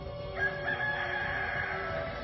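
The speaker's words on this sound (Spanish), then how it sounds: "En ese instante cantó un gallo." A rooster crows once in a single long, drawn-out cock-a-doodle-doo, loud and close, with no other sounds around it.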